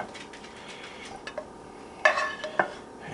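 A spoon scrapes and stirs drained hamburger meat in a pan, soft quiet scuffing with a couple of sharper metallic clinks against the pan.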